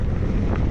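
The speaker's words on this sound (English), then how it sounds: "It's cross breeze, left to right." Steady cross breeze buffeting the microphone while cycling westbound on the Katy Trail in Missouri, a continuous low rumbling wind roar with no gaps, loud and close.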